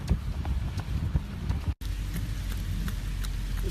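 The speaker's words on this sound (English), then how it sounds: "It's 44 degrees and it's nice and rainy outside." Rain falling outside on a 44-degree day, a steady wash of patter with scattered louder drops and low wind rumble, broken by a brief cut midway, with no voices.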